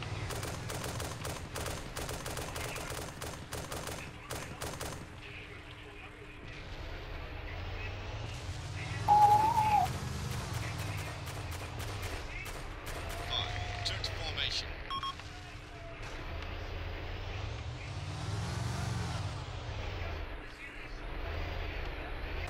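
Rapid bursts of gunfire crack through the opening seconds over a steady engine drone, with people talking throughout, in the video game Arma II: Operation Arrowhead.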